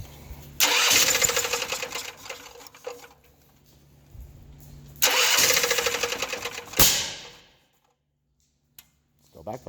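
A Champion generator engine runs in two rough bursts, sputtering and popping with a sharp backfire crack near the end before cutting out, then near silence with a couple of faint clicks.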